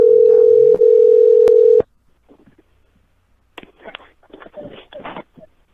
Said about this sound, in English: While I dial Mr. Price up.